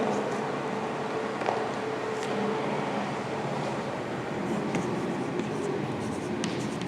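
A teacher writes a definition during a Class 8 science lesson, producing a continuous soft scratching of chalk or pen over a steady low room rumble, with no talking heard.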